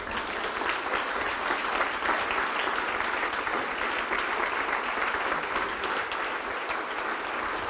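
A lecture-hall audience gives a sustained, dense round of clapping after a talk on numbers that computers can never calculate. The applause stays loud and even from start to finish, with no voices over it.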